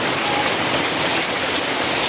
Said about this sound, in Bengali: বৃষ্টি আর বৃষ্টি, শুধু পানি আর পানি পড়তেছে।